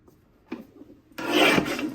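A paper trimmer slices through cardstock for a card kit: a soft click, then a close, sustained scraping rasp as the blade runs along the sheet.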